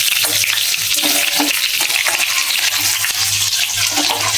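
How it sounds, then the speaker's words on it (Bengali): Chopped ginger frying in a pan gives a steady, loud, close sizzle with occasional stirring scrapes and a low background hum throughout, no voices. "এটা একটু আদা কুচি দিয়ে দিলাম। এটা একটু ভাজা ভাজা হয়ে যায়"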